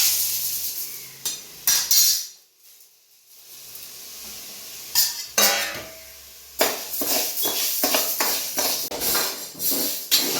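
Rice and green gram dry-roasting in a hot pan, with intermittent scraping and stirring rasps, light clinks of a utensil against the pan, and brief pauses of near silence between bursts.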